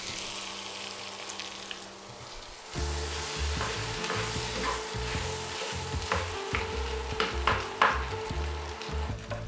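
Potato and chopped beef drop into a pan of frying onions, the quiet start giving way to a loud, steady sizzle with scraping and stirring clatter from a utensil, no voices.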